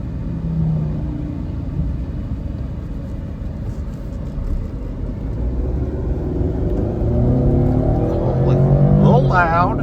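A 2006 Mercedes C230 Kompressor with a four-cylinder engine is heard from inside the cabin. The engine drones loudly and steadily, its rumble building toward the end as the car gathers speed, and a voice talks over it.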